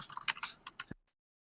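A quick run of soft computer keyboard keystrokes lasting under a second, ending with one firmer tap, then silence.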